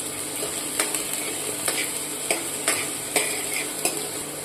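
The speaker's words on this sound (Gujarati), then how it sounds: "આ લીલી ડુંગળી જે સમારેલી હતી એનો વ્હાઈટ ભાગ નાખીશું બંને થોડીક વાર સાંતળી લઈશું" Chopped spring onion whites sautéing for corn soup, a steady sizzle punctuated by regular sharp scrapes of a spatula against the pan, roughly every half second to second.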